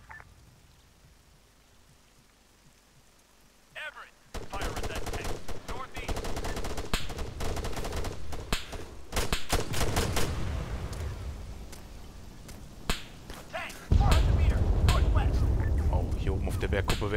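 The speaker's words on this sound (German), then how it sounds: "die liefern sich gerade ein ganz schönes Gefecht" A battle between heavy tanks rages in ARMA III, with dense rapid gunfire, crackling bursts and heavy booms that begin suddenly after a quiet opening and grow louder, ending in a loud roar. Someone talks over the fighting.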